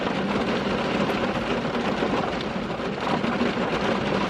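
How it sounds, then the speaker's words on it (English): Heavy rain pours down outside in a steady, dense hiss that fills the whole stretch, loud and unbroken with faint low rumbling underneath and no voices. "it sounds like ginormous raindrops out there"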